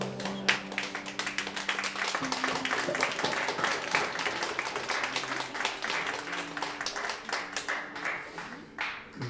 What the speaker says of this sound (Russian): пока вы хлопаете, мы не торопимся